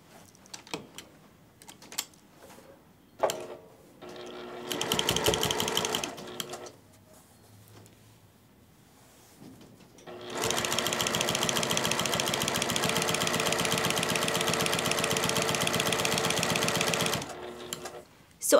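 Sewing machine stitching through quilt batting and binding, running in bursts: a short run near the start, then a long steady whir for several seconds before stopping, close and loud with no talk over it.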